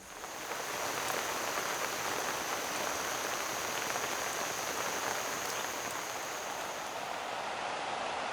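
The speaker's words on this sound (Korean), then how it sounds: "잠시 그쳤던 비가 다시금 억수같이 내리기 시작하고" Heavy rain pours down steadily at a fishing spot, a dense, even roar of drops on surfaces that fades in over the first second and then holds without a break.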